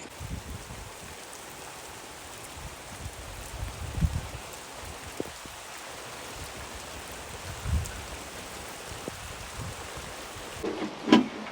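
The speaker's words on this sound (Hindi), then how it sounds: "बारिश बहुत ज़्यादा तेज़ हो गई है।" Heavy rain pours through a stormy night in a village, a dense and even hiss of falling water with occasional louder splashes and knocks close by.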